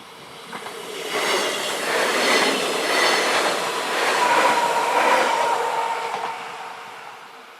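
An RhB Capricorn train passes through the rain, a broad rumbling wash of wheels and rail noise with faint squeals swelling and fading over several seconds under steady rain hiss.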